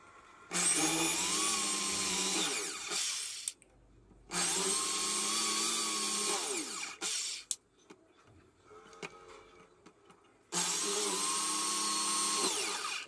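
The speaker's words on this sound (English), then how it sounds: "I'm kind of struggling with drilling here." A power drill whines in three long, loud bursts while drilling a pipe-frame quadcopter, separated by pauses filled with faint clicks and handling noise.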